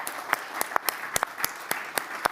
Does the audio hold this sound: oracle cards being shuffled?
no